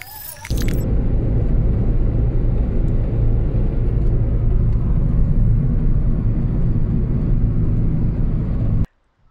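Steady low road rumble of a car driving between Alanya and Antalya in Turkey, loud and continuous from the start until it cuts off near the end, with no talking.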